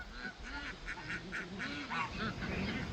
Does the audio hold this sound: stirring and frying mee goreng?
no